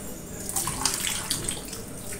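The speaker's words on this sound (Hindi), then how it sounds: "इसमें थोड़ा मैं पानी भी डाल दूँगी" About half a cup of water is poured into a cooking pot of beef dum pukht, a short splashing trickle with small bubbly bursts, close up and alone without talk.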